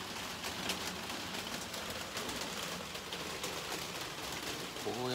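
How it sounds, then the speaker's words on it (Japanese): Rain falls steadily on a terrace, an even, close patter that continues throughout, with a brief voice at the very end. "雨降ってるんでね、脱走はしないと思うんですけど、"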